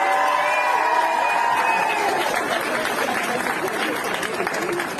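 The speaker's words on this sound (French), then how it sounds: "Je voudrais que vous l'applaudissez." At the Pride celebration in La Rochelle, a lively outdoor crowd applauds and cheers, with whoops and shouts over steady clapping that stays loud and slowly tapers off.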